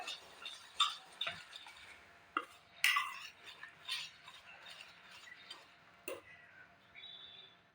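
A spoon stirring oats and mashed banana pancake batter in a bowl, quiet and close, with scattered sharp clinks and taps against the bowl, separated by soft scraping pauses and no voices.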